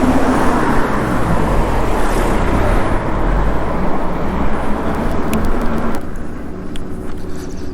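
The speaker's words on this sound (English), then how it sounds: "Seems to be a lot of cars about." Steady roar of road traffic from passing cars heard from an e-bike riding into a headwind, loud and continuous with wind rumble, easing slightly toward the end.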